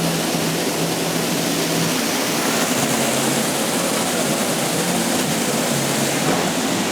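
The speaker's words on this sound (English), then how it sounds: "I love how it just has like water that kind of rains down like that." Water rains down steadily in an indoor fountain at a Door County winery and distillery, a loud, even, continuous rushing hiss close by with no talking.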